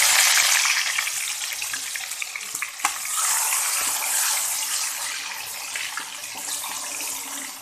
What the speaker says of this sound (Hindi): अब जो है इसमें हम टमाटर डालेंगे।